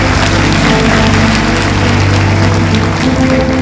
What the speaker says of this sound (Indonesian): Kalau setuju, boleh tepuk tangan Bapak Ibu semua